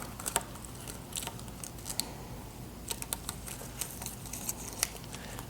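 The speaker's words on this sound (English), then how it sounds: "So I'm pulling my tape off." Tape slowly peeled off the wrap of a bass drum gives faint, dry crackling ticks and small snaps, scattered irregularly at close range in a quiet room.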